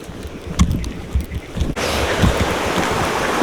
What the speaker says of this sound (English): Just show you the river around here